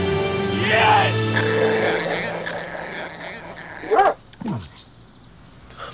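A dog at a frisbee competition whines and gives short yips and barks, with a couple of sharp louder barks near the end, mixed with other background sound.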